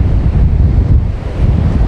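Strong sea waves at Nagaon beach during a high tide roll in as a loud, steady roar. Heavy wind buffets the microphone throughout.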